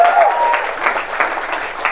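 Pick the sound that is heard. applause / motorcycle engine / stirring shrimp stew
applause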